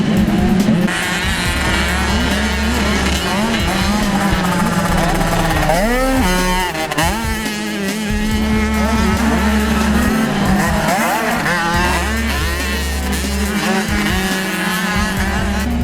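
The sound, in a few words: motocross motorcycles racing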